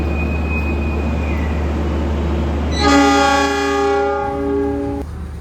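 Supas commuter train to Probolinggo departing Surabaya Gubeng station, its horn sounding a loud chord-like blast for about two seconds over a steady rumbling engine hum.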